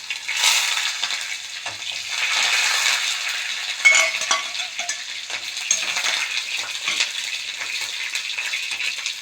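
Curry leaves, green chili and ginger sizzle in hot oil in a pan, a steady bright crackling hiss broken by the scrape and clink of stirring.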